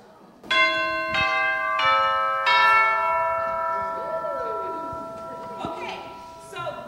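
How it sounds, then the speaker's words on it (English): Several bell strikes ring out one after another, bright and resonant with long sustained tones that overlap and slowly fade, with faint voices murmuring underneath. "Ring the bells."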